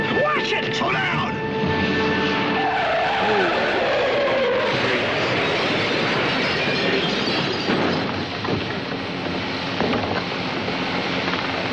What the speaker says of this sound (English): Step on it, Rager. You're barely moving. Oh, no. Watch it! Slow down!